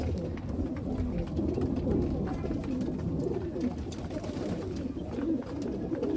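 A flock of Giribaj pigeons at a Rajshahi pigeon farm keeps up a thick, continuous murmur of low cooing, many birds calling at once nearby, steady in level with no talk over it.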